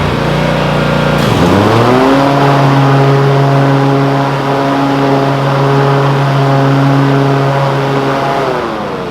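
Loud Cub Cadet Ultima ZT1 zero-turn lawn mower engine revs up after a brief dip, then holds a steady, droning high-rpm tone close by with no talking.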